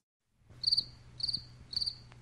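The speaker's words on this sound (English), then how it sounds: "Cricket." A cricket chirps three times in evenly spaced, bright trilled bursts, clear and alone against a quiet low background hum.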